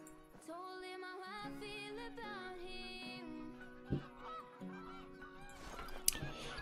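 Canada geese honk repeatedly in the hunting game Call of the Wild, a noisy flock calling in overlapping, rising cries with a couple of sharp bangs cutting through.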